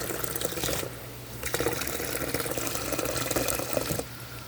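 Water spurts and pops from a line as trapped air is pushed out ahead of the pressure, a close, continuous gushing with uneven sputtering bursts and brief dips in force.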